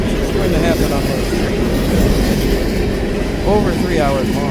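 A long coal train rolls past at Galesburg with a loud, continuous rumble and rail clatter, plus intermittent wheel squeal. People talk faintly underneath.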